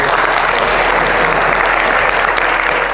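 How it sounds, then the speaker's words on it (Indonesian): An audience claps for a young questioner named Rehan at a public dialogue event, a loud, dense burst of steady applause filling the room without speech. "Tepuk tangan buat Rehan."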